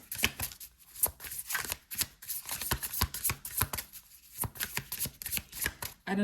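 Tarot cards shuffled for a reading, a dense run of close, crisp riffling and flicking bursts with brief pauses between shuffles.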